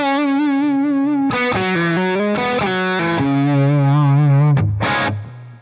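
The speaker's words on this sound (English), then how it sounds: "the reverb you're hearing is from the UA Effects Golden Reverberator, and it's a spring reverb" An electric guitar played through a Marshall-style amp with distortion and a UA Golden Reverberator spring reverb in the effects loop rings out sustained chords and bending notes, wet reverb tails trailing, then a brief final stab before fading.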